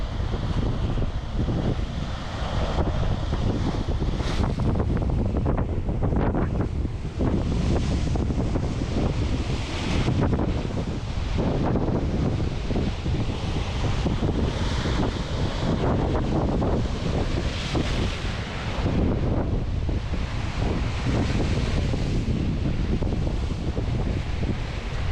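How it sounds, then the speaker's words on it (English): Strong wind buffets the microphone on the North Sea coast of Scotland while big waves crash and surf roars steadily beneath it, a dense, loud, unbroken wash with no voices. "You feel the wind in front of the big waves."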